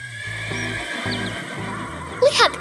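A cartoon horse in an animated farm scene neighs loudly over a bouncy music track, with a short shrill whinny near the end.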